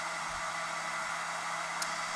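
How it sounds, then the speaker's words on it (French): A hair dryer blows a steady stream of air onto stretched gauze fabric in an evaporation-cooling experiment, making a continuous, even whoosh with no pauses and no voices. "on met en route le sèche-cheveux, l'air est propulsé sur le tissu"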